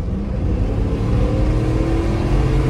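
A Dodge Durango with a full engine swap revs in a steady, loud, close rumble that holds throughout with no one talking.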